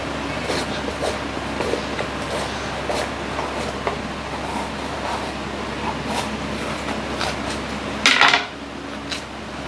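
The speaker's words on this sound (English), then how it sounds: "Next, we'll be chopping our bell peppers." A knife taps on a cutting board in a steady series of light chops through bell peppers, with a sharper clatter of kitchenware near the end and no speech.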